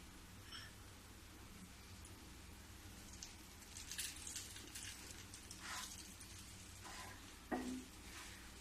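Sattu and makhana roasting in ghee in a pan for laddoos, a faint, steady sizzle with soft stirring scrapes and a few sharper clinks of the spoon against the pan.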